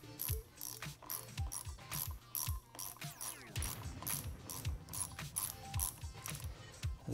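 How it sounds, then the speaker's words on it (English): Repeated ratchet-wrench clicks as a nut is tightened on the lever pivot bolt of a 2014-2016 Yamaha FZ-09 motorcycle while fitting Womet-Tech EVO Shorty levers, a steady run of close, crisp mechanical clicks throughout. "now, using my tool, while pressing on the pivot bolt so that it stays in its key, I'm gonna tighten this up"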